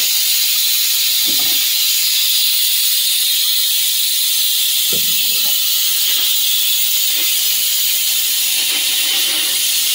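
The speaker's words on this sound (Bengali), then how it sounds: "আর ওদিকে প্রেসারে সিটি পড়ছে" A pressure cooker of khichuri vents steam through its whistle in a loud, continuous hiss that runs the full ten seconds, with a few faint low knocks underneath.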